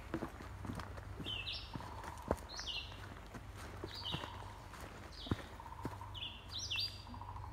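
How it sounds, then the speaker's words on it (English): Birds chirp and call in short bursts throughout a Connecticut forest, with a soft repeated knocking underneath from a woodpecker tapping at a distance. "You can hear under all the birds talking to each other is a woodpecker."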